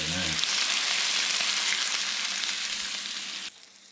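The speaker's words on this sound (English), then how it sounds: "When you're browning bear, you just want to do it in batches" Bear backstrap meat browning in a pan in batches, giving a loud, steady close sizzle and frying hiss that runs unbroken and then drops off abruptly near the end.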